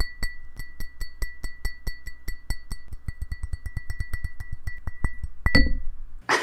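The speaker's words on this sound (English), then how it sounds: "This is my glass of water." A glass of water gives off a quick run of light, bright clinks and taps at an even, fast rhythm. The run ends in a heavier thump as something knocks against the microphone.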